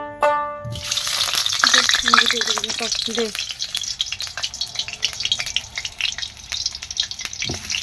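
Potatoes are poured into hot oil and burst into a loud, close, crackling sizzle that settles into steady frying with popping spatters; a brief voice is heard near the start.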